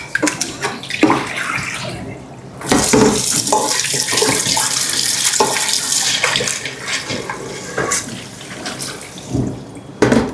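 Water runs steadily from a tap while dishes are washed by hand at a kitchen sink in a home abroad, with splashing and occasional clinks of plates close by.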